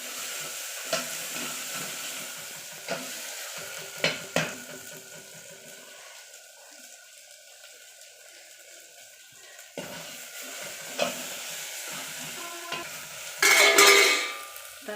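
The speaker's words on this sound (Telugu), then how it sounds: "మసాలా అనేది బాగా వేగాలి" Masala for gongura mutton biryani stirred and frying in a pot over a wood fire, with a soft steady sizzle, scattered scraping clicks from the spoon, and a louder burst of sizzling near the end.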